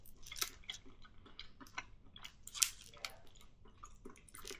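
Crunchy chewing of a Snickerdoodle truffle with a hard outer shell, close and fairly quiet, with irregular bites and squishy mouth sounds, no talking.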